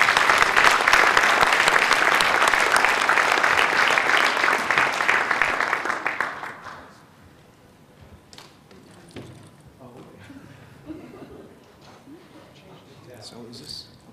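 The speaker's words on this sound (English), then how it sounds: "So round of applause for these GISCorps." Audience at an awards breakfast celebrating a GIS volunteer corps' tenth anniversary gives a full, steady round of applause for about six seconds, then it fades into a quiet room with scattered small knocks and shuffles.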